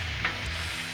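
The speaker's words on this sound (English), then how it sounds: "Let's slide our bacon over here, y'all." Bacon sizzles on a Blackstone griddle, a steady close crackling hiss with brief pops, heard alone with no voices.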